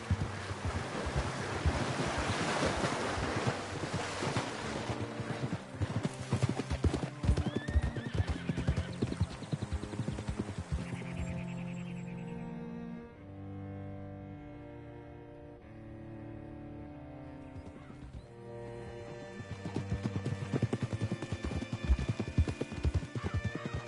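Horses ridden in Red Dead Redemption 2, their hooves clip-clopping in a brisk, close rhythm with occasional whinnies over wind and surf-like wash. The hoofbeats fade mid-clip under calm tonal music, then return toward the end.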